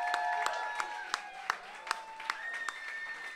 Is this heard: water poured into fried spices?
no